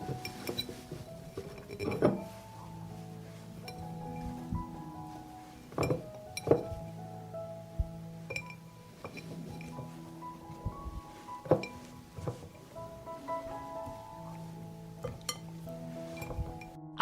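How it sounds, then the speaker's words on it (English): Fresh tomatoes go into a glass jar with a series of sharp glassy clinks and knocks, spaced irregularly over soft background music. "I put tomatoes in a jar."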